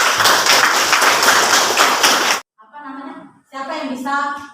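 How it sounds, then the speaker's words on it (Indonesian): Classroom applause for a student group, a burst of close, loud clapping that stops abruptly partway through, followed by children's voices talking. "Tepuk tangan untuk kelompok 5."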